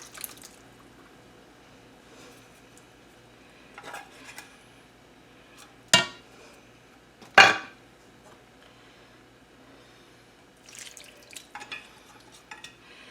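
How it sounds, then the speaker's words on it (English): Canned clams and their juice go into a baked clam dip, with scattered clinks of a spoon against the bowl, two sharp loud knocks, and soft wet stirring and dripping between them. "I'm going to add the 2 cans of clams with the clam juice."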